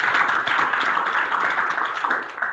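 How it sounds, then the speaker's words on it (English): An audience at an optical sciences talk claps steadily for a speaker, a close, dense patter of hands that keeps an even level from start to finish. "he gets another round of applause"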